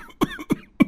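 Three harsh, close coughs in an even rhythm, each a short loud burst with a brief gap between, from a person whose health has been damaged by smoke at home.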